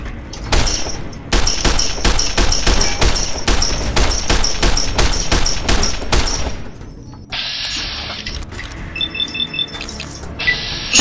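Rapid bursts of video game gunfire ring out loud and close, a string of sharp repeated shots followed by a short pause and then a second rattling volley with metallic tones.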